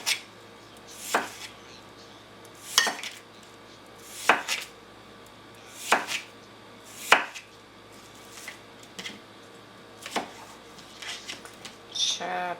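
Cucumber being chopped for sushi on a cutting board, with roughly eight crisp knife strokes falling at a steady, unhurried rhythm, close and moderately loud.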